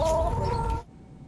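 Backyard chickens cluck briefly up close, a short burst of hen sounds that stops abruptly.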